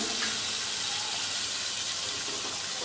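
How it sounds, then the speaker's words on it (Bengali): Shing fish fry in hot mustard oil, a steady broad hiss and sizzle with no voices. "তেলটা গরম হয়ে যাওয়ার পর সব মাছগুলো দিয়ে দিলাম।"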